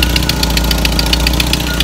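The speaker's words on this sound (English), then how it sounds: "I got a massive exhaust leak because I just wanted to get it fired up." A Holley Sniper-equipped engine idles with a massive exhaust leak from a cracked header and poorly sealed block-off plates, giving loud, close, rapid rhythmic ticking and chuffing pulses over a steady low rumble.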